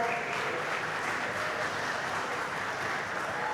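An audience at a Jakarta city-branding discussion forum claps for Plus Jakarta: a steady, even wash of applause filling the room at moderate level, with no voices rising above it.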